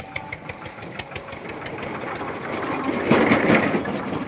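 Tractor engines run at a railway station while a goods train is unloaded, a steady mid-pitched idling rumble with irregular knocks that swells louder near the end, no voices.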